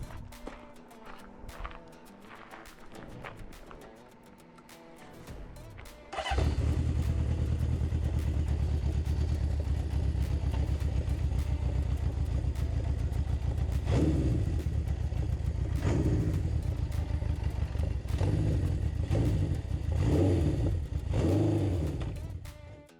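A 1974 Honda CB750K motorcycle, quiet with clatter and a faint voice, then fires up into a loud, steady engine drone that carries on as it rides off, with throttle swells toward the end.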